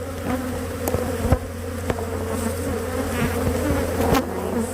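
Honeybees from an opened hive hum in a dense, steady drone close by. Occasional sharp clicks and knocks from handling the frames cut through it, and no one speaks.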